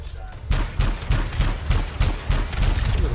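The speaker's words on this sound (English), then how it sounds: "That's the only reason I kept my AR, so I could shoot from a distance." Assault rifle fire in the action game Anthem, rhythmic shots of about two a second, loud and close, with a brief quieter lead-in before the firing starts.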